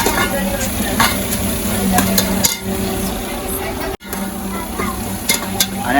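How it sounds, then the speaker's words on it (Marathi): Masala frying in a pan for prawn biryani gives a steady, close sizzle, with stirring scrapes and a brief break partway through, while a voice talks over it. "जरा असा फ्राय करायचा मसाला जरा भाजले पाहिजे"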